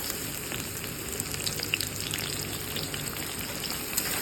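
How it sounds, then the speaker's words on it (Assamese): Onions fry with bay leaf and whole spices in hot oil, giving a dense, steady sizzle with small crackling pops. The sound stays close and even throughout, and no one speaks. "পিয়াজখিনি মানে ভাজি থাকিম যেতিয়ালৈকে পিয়াজখিনি ৰঙচুৱা নহয়"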